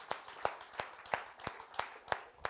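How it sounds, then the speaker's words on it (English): Evenly spaced claps, about three per second, sharp and moderately close, like a small group clapping in rhythm rather than a full crowd. "A big round of applause for these three gentlemen."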